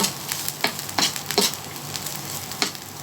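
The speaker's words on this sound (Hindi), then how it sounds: "तो इसको हम लोग थोड़ा सा शैलो फ्राई करेंगे" Leftover masala of garlic, mint and chilli shallow frying in a pan for stuffed brinjal, a steady close sizzle broken by several sharp stirring scrapes, with no talking.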